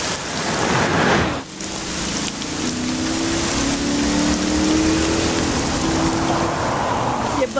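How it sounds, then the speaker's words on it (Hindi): Heavy rain pours steadily and loudly on a surface throughout, a dense continuous hiss with a brief dip near the start and a faint low hum running beneath it. "एक तो आज बारिश भी बहुत तेज है"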